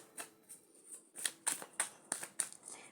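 Tarot cards are shuffled close by in a series of crisp riffling flutters, about eight quick bursts in a steady rhythm with no talk.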